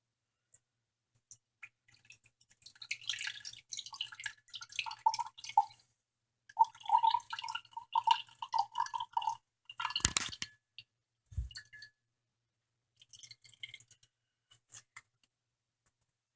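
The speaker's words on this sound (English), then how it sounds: "the liquid inside there is actually buttermilk. We're going to pour that off." Buttermilk pours off freshly churned homemade butter in quiet, close, intermittent trickles and drips, with a brief dull thud partway through.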